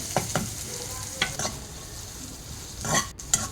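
Onions frying in a pan for a ladyfinger dish, a soft steady sizzle broken by several distinct stirring scrapes at irregular intervals, close up with no voices.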